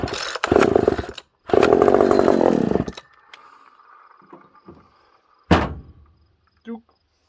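A vintage Pioneer chainsaw is pull-started: two loud bursts of engine sputter and rasp, each cut short, followed by quieter mechanical clicks and handling noises and a final brief rattle.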